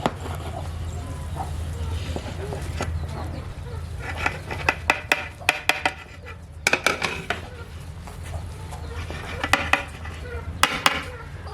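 A ladle stirs vegetable biryani in a metal pot, giving bursts of sharp scraping and clinking against the sides in several rounds over a low background hum.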